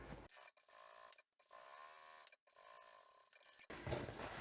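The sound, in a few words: sewing machine stitching fabric playing card holder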